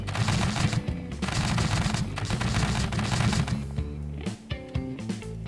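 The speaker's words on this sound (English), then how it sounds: "it has a much higher fire rate. I believe it now qualifies as a Gatling gun" Rapid, continuous gunfire from a Gatling gun mounted on a tank in Scrap Mechanic, the bursts loud and dense, thinning briefly near the end before resuming.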